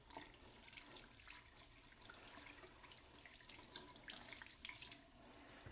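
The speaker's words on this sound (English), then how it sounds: "now I'm going to kind of run it under the water to simulate you know, washing it off, some mud or whatever" Phone case rinsed under a running kitchen tap, a continuous faint splash and hiss of water hitting the case and sink, steady for several seconds with no talk.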